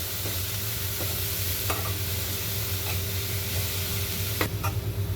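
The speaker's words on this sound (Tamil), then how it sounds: "நல்லா வந்து வதக்கிடுங்க முட்டைகோஸை." Shredded cabbage sautéing in oil in a pan, a steady loud sizzle and hiss with a few soft stirring scrapes, no voices.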